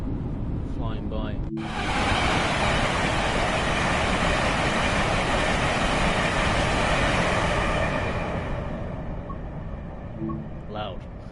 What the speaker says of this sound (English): Train like at speed, flying by.